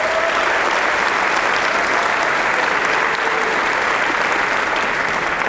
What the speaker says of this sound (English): a big hand of applause for our donors